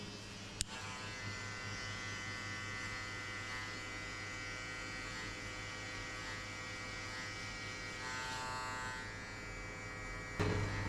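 A hair clipper fitted with a 0.5 guard, lever open, buzzes steadily and close up while fading the middle of a mid skin fade, with a brief click near the start and a knock at the end.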